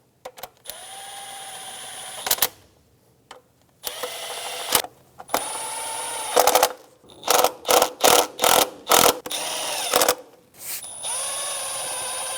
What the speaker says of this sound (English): Go around and snug down all of the bolts.